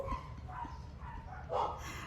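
Several neighborhood dogs bark in short, scattered bursts, with a louder cluster near the end, set against steady outdoor background noise and no talking.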